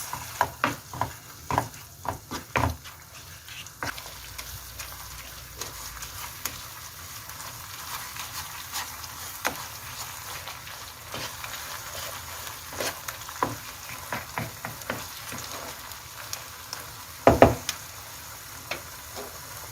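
Ingredients for Mirza Ghasemi fry and get stirred in a pan, a low sizzle under a long series of close, sharp utensil taps and scrapes, with one louder clatter near the end, no talking.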